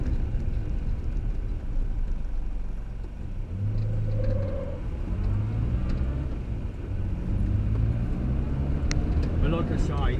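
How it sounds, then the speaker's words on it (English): A 1962 Morris Minor with a 950cc engine drives along, its steady low engine drone and road rumble continuous throughout, with faint whines and rattles mixed in while someone talks over it. "Don't forget he's only an 950cc, and it's got few whines and rattles."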